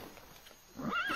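A horse in a Thai-dubbed martial-arts fantasy film lets out a brief neigh near the end, rising out of a quiet, faint background.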